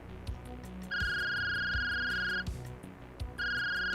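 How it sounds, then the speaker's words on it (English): A mobile phone plays a bright electronic ringtone in two bursts, the first lasting about a second and a half and the second starting after a short pause, heard fairly close over a low background hum. "John's phone. It's ringing."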